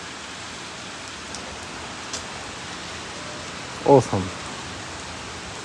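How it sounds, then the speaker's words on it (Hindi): Heavy monsoon rain falling on an August evening in Dehradun, a steady dense hiss that fills the whole stretch, with a brief spoken word from a man near the end. "अभी भी लगातार बारिश है, पिछले 3-4 घंटे से लगातार।"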